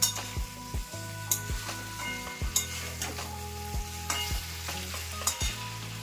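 A thick curry sizzles in a pan while a spoon scrapes and clinks against it in a steady stirring rhythm, close and fairly loud, without any clear burst of water being poured in.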